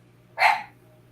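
A single short, sharp dog bark sounds once at moderate distance against a quiet indoor background, with no talking during it.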